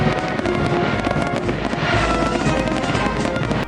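Dense fireworks barrage with continuous crackling bursts and booms filling the whole stretch, loud and close, with no voices.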